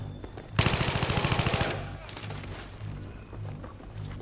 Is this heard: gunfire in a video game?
yes